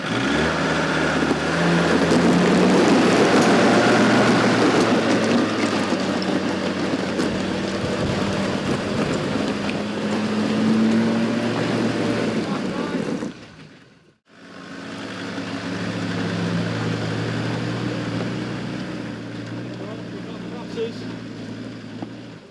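An off-road truck labours through water and mud, its engine droning loudly and steadily while a winch pulls, with splashing, a brief near-silent dip midway, then the rumbling resumes as people talk over it.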